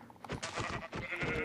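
Sheep bleating in the Minecraft video game, several loud, close bleats in a quick, uneven series with no talk over them.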